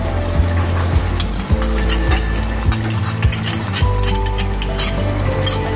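Yogurt goes into spices frying in a pot for a Sindhi biryani, bringing loud continuous sizzling with bubbling, scraping stirring and occasional utensil clinks, close and steady throughout.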